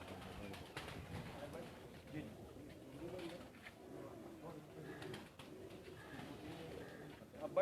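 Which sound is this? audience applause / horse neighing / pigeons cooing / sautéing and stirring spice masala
pigeons cooing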